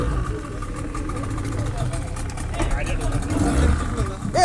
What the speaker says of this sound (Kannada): ಬೋಟ್ ಸ್ಟಾರ್ಟ್ ಆಗದೆ.